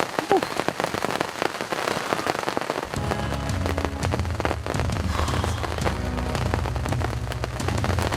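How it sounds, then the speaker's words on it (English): Constant rain falling during a bear hunt outdoors, a steady dense patter with scattered sharp drop ticks, running throughout beside a low rumbling hum in the latter part. "It's been raining since probably about noon, just constant rain."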